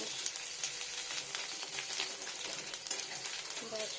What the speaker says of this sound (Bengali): আদাটা একটু ভালো করে কষে নিই